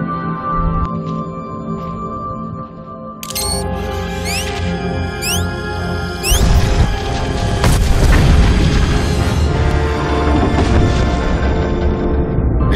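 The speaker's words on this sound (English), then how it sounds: "The explosion shook the ground." A deep boom goes off in Star Wars: The Old Republic during a Sith Warrior story on Voss. It rolls into a sustained loud rumble with layered booming over a game score, and no one speaks.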